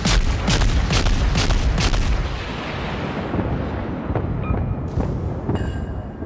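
Loud naval gunfire and shell impacts from a World of Warships co-op battle, with a run of heavy booms at the start that thin into scattered distant crackles and hits.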